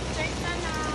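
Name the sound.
rain falling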